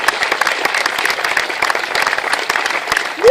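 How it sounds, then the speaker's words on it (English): Dense audience applause at a Los Angeles city council induction ceremony, steady and close throughout, fading into a brief voice at the very end. "Big round of applause for my three compadres"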